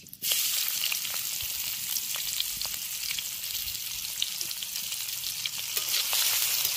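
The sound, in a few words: frying chopped onions in oil after removing fish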